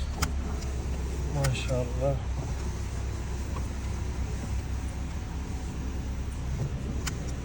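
A 2012 Chevrolet Malibu engine runs steadily at idle just after starting, a low constant hum close by, with a brief voice and faint clicks over it.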